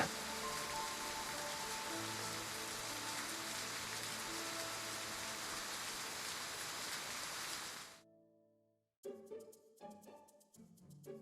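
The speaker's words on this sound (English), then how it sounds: "I wanted the rain to last a little longer." Steady rain falls in a broad even hiss for about eight seconds and then cuts off abruptly, followed after a short gap by a few scattered, softer sounds.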